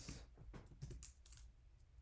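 Typing on a computer keyboard: a quick, irregular run of soft, close key clicks with no talking over it.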